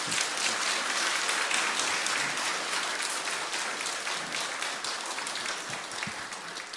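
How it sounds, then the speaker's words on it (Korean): A church congregation at a Korean Sunday worship service applauds in a dense, steady wash of clapping that holds for the whole stretch, easing slightly toward the end. "나오실 때 우리 환영하는 마음을 가지고 한번 박수하며 환영하겠습니다."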